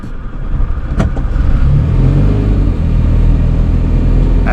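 Car engine climbing a hill during driving practice, a loud sustained low rumble that strengthens as the car pulls uphill, with a couple of brief knocks early on and no talking.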